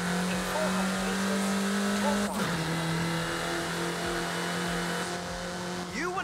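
In Forza Horizon 5, a car engine revs steadily through corners, holding a loud continuous hum with one sharp drop and recovery partway through and a rising whine at the close.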